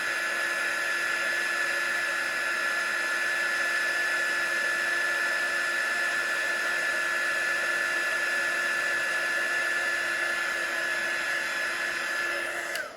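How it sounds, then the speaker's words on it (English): A craft heat tool blowing steadily while melting embossing powder on a card, a constant high whirring hum with an airy rush, close and unbroken for over twelve seconds before it cuts off at the end. "As soon as it turns, we're just following it with the heat tool."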